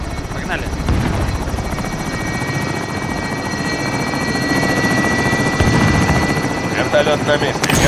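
A helicopter in the video game Warzone drones continuously with fast rotor chop and a high whine, loud and steady, while people talk over it.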